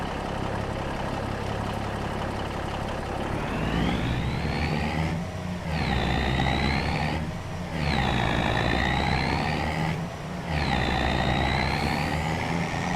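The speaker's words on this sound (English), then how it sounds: "That truck does sound good." A Farming Simulator 25 truck engine drones loudly and continuously, its pitch rising and falling repeatedly as it revs and shifts gears.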